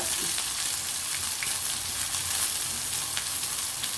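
Fish fries in a pan with a steady, dense sizzle and crackle that holds even throughout, close and moderately loud, with no voices.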